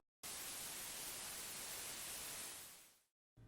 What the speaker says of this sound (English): you'll start hearing a static noise that will constantly play as long as you're playing the world